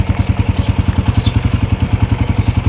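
A Suzuki Raider R150 FI motorcycle engine idles while warming up, with rapid, even low thumps close by and a faint metallic clatter over the rumble.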